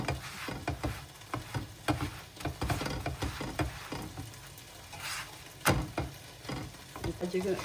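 Roti cooks on a hot pan with a soft, steady sizzle and frequent light taps and scrapes from handling it, close by and fairly quiet.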